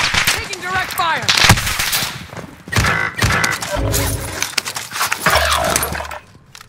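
Gunfire crackles in the Call of Duty Modern Warfare Warzone battle royale, with bursts of shots and impacts layered among loud game voices and battlefield noise.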